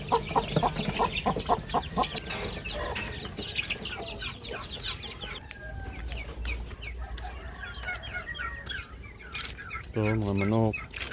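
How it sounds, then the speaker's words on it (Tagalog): A flock of chickens clucks and squawks steadily on a farm with turkeys and chicks, with a crowing call near the end and a voice briefly in the background. "Ito, mga manok."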